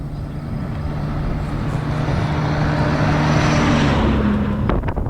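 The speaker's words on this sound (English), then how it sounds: "Truck." A truck passes on a rural road during a bike ride near West Union, Iowa, its engine rumble and tire roar building steadily and peaking near the end under wind noise.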